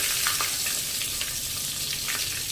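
Whole garam masala of cloves, cinnamon and cardamom fries in hot oil in a pan for egg biryani. It gives a steady, close sizzle with small crackles throughout.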